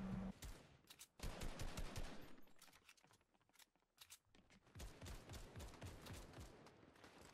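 Rapid bursts of automatic gunfire in Fortnite crackle in quick repeated volleys, pausing briefly midway before resuming in a steady stream of close shots.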